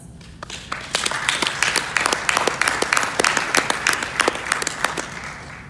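Conference audience at SXSW applauds in a hall, a moderately loud round of clapping with distinct sharp individual claps standing out over a fuller wash, continuing steadily for several seconds.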